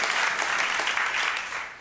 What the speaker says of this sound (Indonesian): Siapa yang percaya, berikan tepuk tangan yang meriah untuk Tuhan.